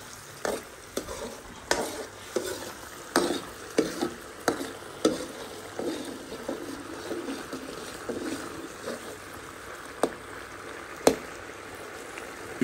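Shrimp, snow peas and onions being stirred and sautéed in a hot pan, with rhythmic scraping strokes of the utensil over a steady sizzle, close and clear with no talking.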